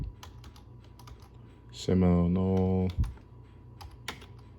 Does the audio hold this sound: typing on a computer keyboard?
yes